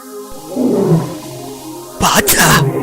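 An animated cartoon tiger gives a roar that swells and fades, followed by a harsher, louder burst of growling and hissing.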